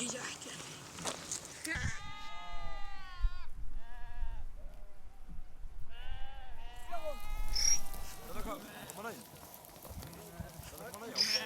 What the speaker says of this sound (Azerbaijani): Quzuları bir neçə saatlıq analarının yanına buraxırlar.